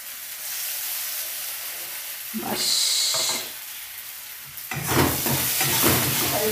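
Fish curry with panch phoron, green chilies, a little onion, coriander leaves and salt fries in a pan, a steady close sizzle broken by louder scraping, hissing bursts of stirring.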